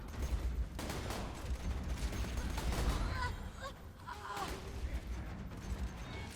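Gunfire from a Jakobs gun in Borderlands 2, several hard shots in a loose, irregular sequence with a low booming body, alongside other game sounds.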